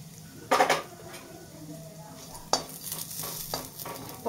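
Almonds frying and being stirred in a pan for a coriander churna prasad, with a couple of sharp scraping stirs and utensil clinks over a soft steady sizzle, close up and without talk.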